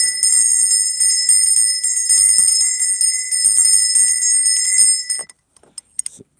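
A bell from India decorated with a mammoth rings loudly and continuously with a bright, shimmering metallic tone for about five seconds, then stops abruptly, leaving a few faint clicks.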